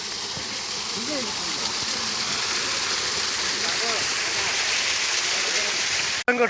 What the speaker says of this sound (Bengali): রঙিন পানির কৃত্রিম ঝর্ণা